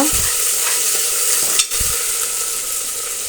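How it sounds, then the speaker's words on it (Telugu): Onions and ginger-garlic paste fry in a pan for a bottle gourd curry, giving a steady, close sizzle with a spoon stirring and one brief scrape partway through. "దీంట్లో కొంచెం అల్లం వెల్లుల్లిపాయ పేస్ట్ వేసుకొని పచ్చి స్మెల్ పోయేంత వరకు బాగా ఫ్రై చేసుకోవాలి"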